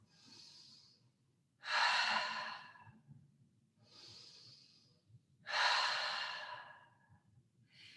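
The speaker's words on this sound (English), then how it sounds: "Inhaling through your nose and exhaling through your mouth." Slow breathing exercise during a yoga session: two cycles of a soft, audible nasal inhale followed by a louder, longer breathy exhale through the mouth, close and unhurried, with no talking.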